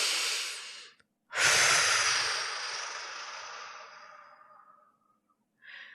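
Slow, deep breaths during a guided meditation come close and clear: one long exhale, a short pause, then a long drawn-out breath that fades, with the start of another at the end.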